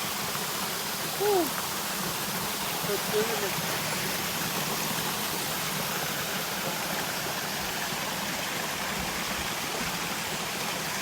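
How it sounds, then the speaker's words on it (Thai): Water rushes steadily at a Thai waterfall, a continuous broadband roar running throughout, with a few faint brief sounds rising over it. "นะครับแล้วผมมาอยู่น้ำตกนะ"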